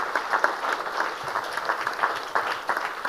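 A conference audience at a ministerial panel applauds the translators, a dense, even round of many hands clapping that fills the room steadily without any speech.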